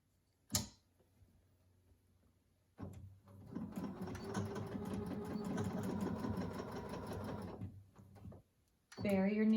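Sewing machine stitching a back tack on a fabric face mask, a sharp click followed by a rapid mechanical whirring run of several seconds that stops, with a person talking at the end.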